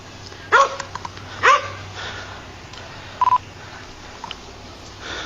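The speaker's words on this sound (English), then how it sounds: "I can't believe you shot the damn dog." A wounded dog that has just been shot barks and yelps in two sharp bursts, then lets out short whimpers, fairly close by over a low background murmur, with a brief electronic beep in between.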